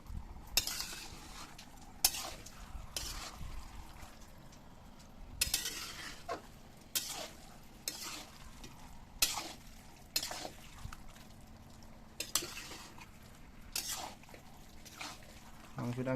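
A spoon scrapes and knocks around a pot while meat is tossed in spices, sharp intermittent clinks and scrapes every second or two over a low background hum, with a quiet voice talking between them.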